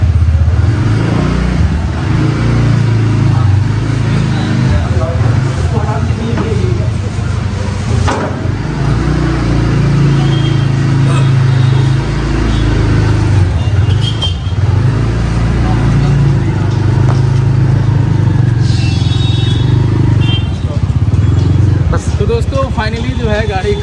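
A new scooter's engine idles and revs as it is ridden out of a tiled showroom floor, the motor droning steadily up close while people talk over it.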